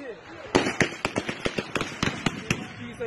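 Police gunshots ring out at a funeral as a string of sharp, loud cracks, about ten over three seconds and unevenly spaced, under excited voices.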